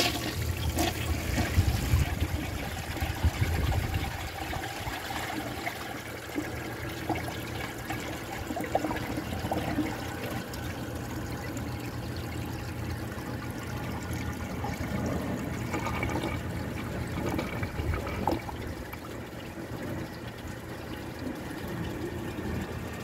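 A 1963 Chicago Potteries toilet flushes with a washcloth and grocery bag in the bowl, giving a steady rushing, gurgling wash of water that carries on at even strength for over twenty seconds.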